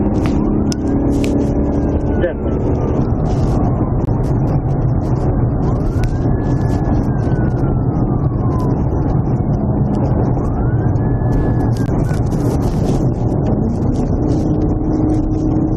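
A police car siren wails in slow rising and falling cycles over loud, constant engine and road roar during a high-speed pursuit, with a brief spoken word inside the car.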